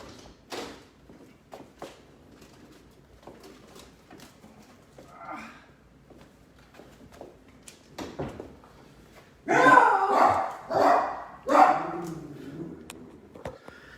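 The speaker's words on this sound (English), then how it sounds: "I think dog's barking." A dog barks in a home kitchen while beef braciola is being cooked: quiet clatter and handling noises first, then a run of several loud, close barks near the end.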